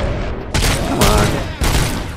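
Loud gunfire from the video game Robocop: Rogue City, heavy overlapping shots in several dense bursts filling the short stretch, up close.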